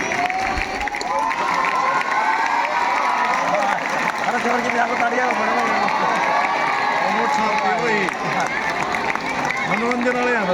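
A school audience at a magic show in Biana claps and cheers loudly and continuously, with children's shouts and excited voices rising over the dense crowd noise.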